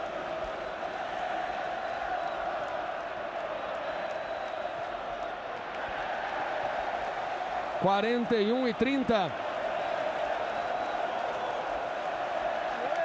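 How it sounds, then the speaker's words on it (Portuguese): Corinthians supporters fill Morumbi stadium with a constant roar during the 2002 Brazilian championship final against Santos, with a commentator talking over it and a brief warbling horn-like tone rising near the end. "A torcida do Corinthians faz muito barulho aqui no Morumbi"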